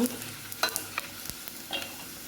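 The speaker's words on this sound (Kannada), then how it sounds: "ಫ್ರೈ ಆಗ್ತಾಯಿದೆ" Spices frying in oil for a raw mango rasam, with chilli and pepper powder in the pan, giving a low continuous sizzle broken by a few sharp clinks and scrapes of stirring, close and fairly quiet.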